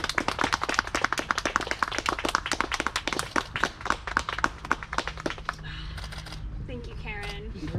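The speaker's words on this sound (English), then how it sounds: "You may kiss, and we can all clap." Wedding guests at an outdoor garden ceremony clap after the couple is pronounced husband and wife, a small group's brisk, distinct handclaps for about five seconds before voices take over.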